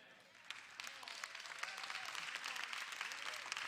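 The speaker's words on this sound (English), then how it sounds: "And we clap" An audience claps in a broad, dense wash that holds steady throughout, with faint voices mixed in under the applause.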